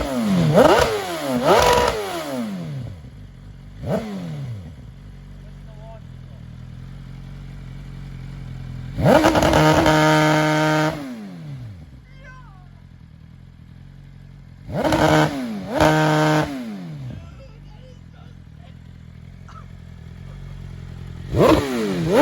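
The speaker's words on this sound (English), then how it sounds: "What's the exhaust on it? Full titanium Akropovic evolution system." A 2021 BMW S1000RR sport bike with a full titanium Akrapovic Evolution exhaust revs in sharp, loud bursts. Quick throttle blips rise and fall, then two longer high-pitched wails with a crackling idle between them.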